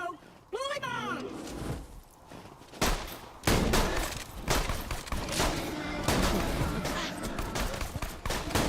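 Bully bombs explode in a video game in a rapid series of sharp, loud bursts, several close blasts with crackling debris, while a voice speaks over the chaos.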